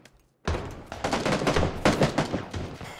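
Vector submachine gun fire in PUBG, a loud, dense burst of rapid automatic shots starting sharply after a brief quiet moment and continuing in uneven clusters to the end, close and punchy.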